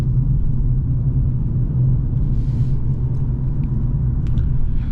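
A Ford Focus 1.6 naturally aspirated petrol engine of 115 hp with about 100,000 km gives a steady low rumble while driving. The drone holds close and continuous throughout, with no talk over it.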